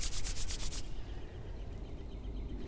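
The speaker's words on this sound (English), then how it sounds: "So do it again. Rub your hands." Palms rubbing briskly together during a guided meditation, a quick run of close, dry swishing strokes that stops within the first second, leaving a quiet room.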